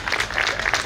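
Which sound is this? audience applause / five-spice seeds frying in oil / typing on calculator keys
audience applause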